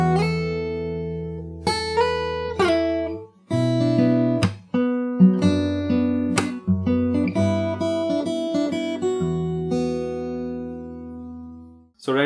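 Guitar plays the end of the chorus into the bridge of a song from Cyberpunk 2077, with plucked notes, chords and slides ringing out clearly, brief gaps between phrases and no talk.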